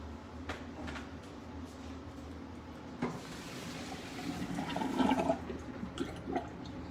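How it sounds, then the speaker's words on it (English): Hot cooking water is poured off into a kitchen sink, a rushing gurgling drain that swells toward the middle, preceded by a few knocks and clatters, close and moderately loud. "Drain it in the sink."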